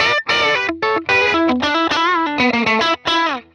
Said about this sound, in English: if you want this 90s country guitar sound, just absolutely smash the comp up